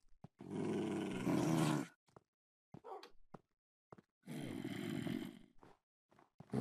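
A dog attacking a zombie in Minecraft with the Animal Bikes mod, giving two loud, sustained growling bursts separated by short clicks and quiet gaps.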